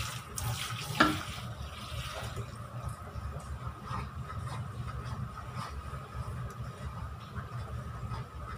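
Water pours into a pot of urad dal porridge as it cooks, a steady running splash with a brief louder burst near the start, then a continuous even flow.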